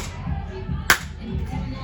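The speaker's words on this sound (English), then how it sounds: "Let me clap for the audio" A single sharp hand clap marks audio sync before a podcast recording, one crisp close transient standing out from low room murmur and faint voices around it.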